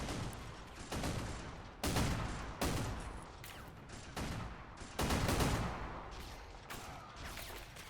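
Heavy gunfire from the Men of War Assault Squad video game, set in a battle defending an imperial temple against Chaos Space Marines: loud repeated bursts and booming volleys arrive in quick succession, dense and continuous, with no talk over them.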